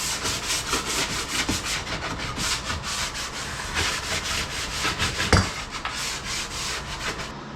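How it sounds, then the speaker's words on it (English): A sanding block rubs back and forth over wooden chamfers on an electrical panel cover, giving a steady, close, scratchy stroking sound that repeats evenly with no talk. "I'll just run the sanding block over those just to smooth them up a little bit"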